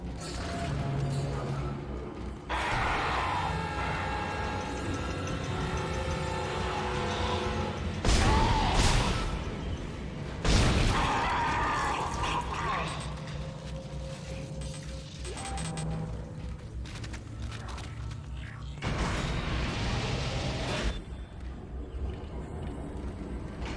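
A clanking, ratcheting elevator runs in Dead Space (2008), steady mechanical grinding with gear rattles and a few loud metallic bangs and jolts over a low drone, no voices.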